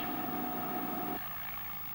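Steady engine drone of an airplane in flight, loud and continuous, with its tone dropping partway through as the power comes back.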